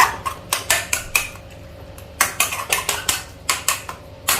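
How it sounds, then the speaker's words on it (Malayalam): A large metal vessel placed over a pot of steaming chicken to cover it, heard as a rapid series of sharp metallic clanks and rattles in irregular bursts, close and loud, with no talk. "അടുത്ത വലിയൊരു പാത്രം എടുത്ത് ഇങ്ങനെ അടയ്ക്കുന്നു"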